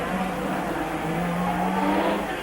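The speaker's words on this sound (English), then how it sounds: "as we look at the McLaren, you'll probably see Arnoux charging" Formula One cars from 1986 race through the streets of Monaco at the Grand Prix, a steady high-pitched engine whine droning continuously with a shifting tone, moderately loud and without talk.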